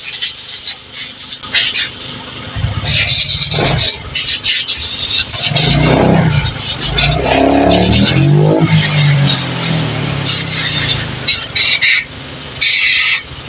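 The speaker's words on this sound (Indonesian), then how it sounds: "Nah, ini sudah siap dinyalakan motornya." A Honda Vario/Beat scooter engine starts after throttle body cleaning and settles into a steady idle, loud and close, with clatter and workshop noise around it.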